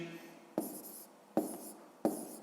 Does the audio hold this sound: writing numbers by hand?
yes